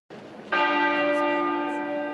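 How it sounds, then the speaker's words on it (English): A single deep toll of the Westminster Abbey tenor bell for Queen Elizabeth II rings out clearly, with a sharp strike and a rich, sustained ringing hum that slowly fades over quiet background. "Westminster Abbey's tenor bell chiming once a minute for 96 minutes, marking each year of Queen Elizabeth II's life"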